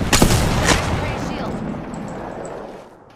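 Gunshots in a video game crack out in a couple of loud, sharp reports at the start, each trailing into a long decaying rumble and fading ambience.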